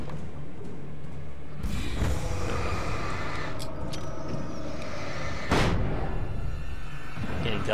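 In the video game Alan Wake, a flashbang grenade goes off, giving several loud, close, booming bursts with ringing and debris-like tails over a rumbling ambient bed, and the strongest crack comes midway.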